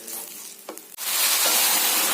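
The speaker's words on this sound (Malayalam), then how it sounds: "ഇതിലേക്ക് വെള്ളം ഒഴിക്കുന്നു" Water hits a hot pan of beef biryani masala after a few soft stirring scrapes, bursting into a loud, sustained hissing sizzle that fills the rest of the moment.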